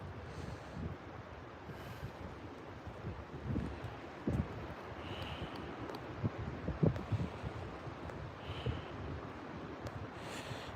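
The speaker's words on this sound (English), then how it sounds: "The wind has definitely not died down." Strong wind blows outdoors on a bass fishing outing, a constant rough roar buffeting the microphone with gusts rising and falling throughout.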